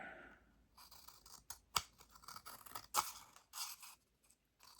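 Scissors snip paper to trim a frame for a small sketch, giving a handful of crisp, separate cuts and light scraping, close but quiet, with no voices.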